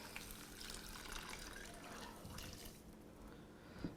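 Water trickles and drips as it is poured into a homemade Kahlua coffee liqueur mixture, a soft, faint liquid splash heard on its own.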